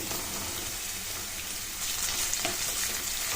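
Paneer hitting a hot pan with onions, dried red chillies and curry leaves, a steady hissing sizzle that swells slightly midway, close and moderately loud with no talking.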